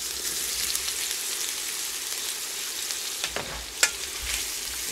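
Spicy sausage dropped into hot oil in a pan for pasta, giving a continuous close sizzle with a few sharp spits and pops near the end.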